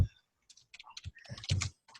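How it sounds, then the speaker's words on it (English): Quick, irregular clicks of fingers typing on a computer keyboard, close and fairly quiet, in short bursts. "That's the sound of typing."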